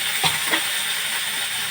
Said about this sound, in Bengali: চরবর চরবর করে ফোড়নটা হয়ে গেছে